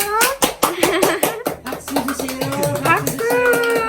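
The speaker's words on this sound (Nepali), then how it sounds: "ताली बाल्नु त" A group claps at a baby boy gender reveal celebration, with a quick run of sharp, close hand claps mixed with laughter and chatter, before voices take over.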